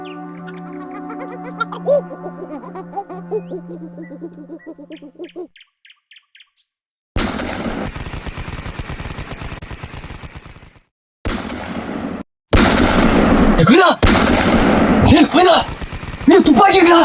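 After a stretch of hooting, bird-like tones, loud gunfire erupts in long sustained bursts and rapid volleys, broken by brief silences, close and harsh in the later half.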